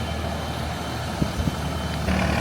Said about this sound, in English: I also hear Kyle pulling up right now in his 2G